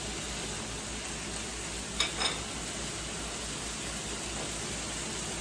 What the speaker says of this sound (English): I'm just going to saute them a few minutes just to get that flavor in there